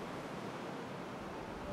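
Wind whistles steadily across a snowy park in the game Jurassic World Evolution 2, a constant broadband rushing that sounds like surf and fills the short stretch evenly with no speech.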